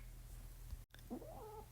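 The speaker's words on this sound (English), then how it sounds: "that is my kittens play fighting right now, and they're getting into it" Kittens play fighting indoors, heard faintly in the background as brief yowling, caterwauling cries against a low steady hum.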